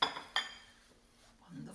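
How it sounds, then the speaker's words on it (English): Pesto is transferred into a small bowl, producing two quick clinks of utensil on dish at the start, then a faint scrape and a soft low thud near the end, in quiet surroundings. "Now, I'm going to remove it into a small bowl"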